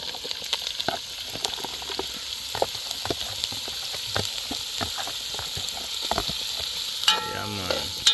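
Vegetables being stir-fried in a pot outdoors, with a constant oily sizzle under repeated scraping and clacking strokes of a utensil against the pot, up close and without voices.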